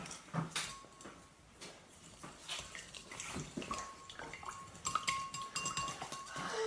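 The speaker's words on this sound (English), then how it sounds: "you want to whisk the eggs a little bit" Eggs being whisked in a bowl while pancake batter is prepared, with faint, irregular clinks and scraping taps scattered over a quiet, watery kitchen background.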